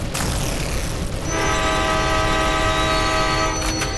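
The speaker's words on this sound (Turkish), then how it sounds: "Örümcek tren değil kaplumbağa tren." A train in the Choo Choo Charles mobile video game rumbles along with a loud sustained horn blast that enters about a third of the way in and holds steady, over continuous heavy rolling noise.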